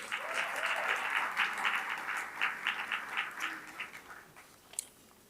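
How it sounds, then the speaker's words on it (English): Audience applause at a South African awards ceremony opening, thanking event sponsors: steady, dense clapping from a crowd in a large room that fades out over several seconds, with no talk. "Please give them a round of applause."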